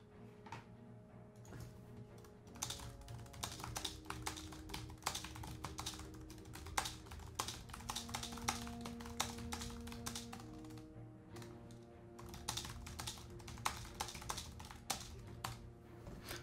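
Steady typing on a computer keyboard during a Sunday evening live stream, close and moderately quiet, with irregular bursts of key clicks and short pauses over a low background hum.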